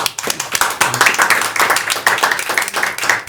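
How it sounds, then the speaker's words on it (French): Audience clapping at a French quiz night, a burst of dense, close hand claps from a room full of players, loud and lively throughout with no talk. "On peut les applaudir, hein, tous."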